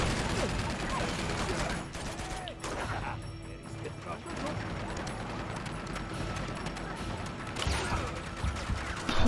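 Gunfire in the video game Uncharted 2, with pistol shots mixed into a busy battle of scattered bursts, mechanical clatter and crashes, loud and close throughout.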